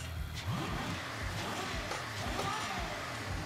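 A car engine in Gran Turismo hums and revs in a steady mid-pitched drone, with a few rising swells, moderately loud throughout.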